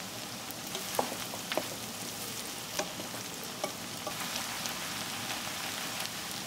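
Onions sizzling in a hot pan while cooking Bengali spicy liver curry, a soft continuous frying crackle with scattered sharper pops, fairly quiet and close.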